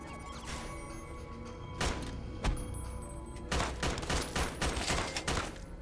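Gunfire in Fallout: Tale of Two Wastelands, scattered shots and thuds early on, then a dense rapid volley of close shots toward the end, with no voices.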